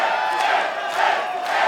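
A dense, roaring wrestling crowd at a lucha libre show in Mexico City, cheering and yelling continuously through a high-flying Octagon Jr. match.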